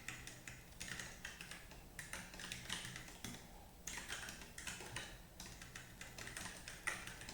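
Steady rapid typing of code on a computer keyboard, quick clicking keystrokes in bursts with brief pauses, close and quiet with no talking.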